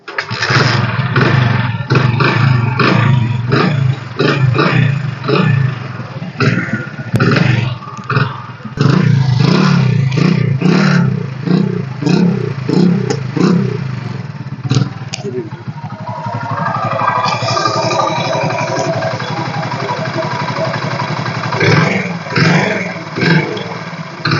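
A Hero Splendor Plus motorcycle engine runs steadily with irregular pulsing, someone talking over it at first; later the engine idles more evenly beneath background noise.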